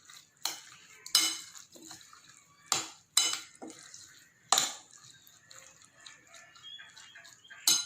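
A spoon stirs lemon-dressed marinated mushrooms in a bowl, giving a series of sharp utensil clinks and knocks against the bowl, spaced irregularly with soft wet mixing sounds between them.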